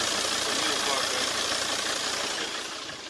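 A car engine idles steadily at close range, a dense, even rumble with a slight knock that eases off a little toward the end.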